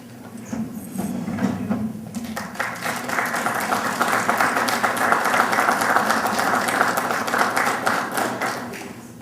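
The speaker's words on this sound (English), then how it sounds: "So I ask that all the promotees stand, turn, and give an applause to their family." Audience applause at a fire department promotion ceremony, opening with some murmuring and shuffling before a crowd breaks into loud, steady clapping that swells and holds for several seconds.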